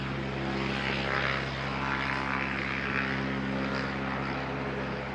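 An ATR turboprop airliner taxis at Christchurch Airport, its propellers giving a loud, steady droning hum with a continuous whine layered over it, heard from nearby without any talking.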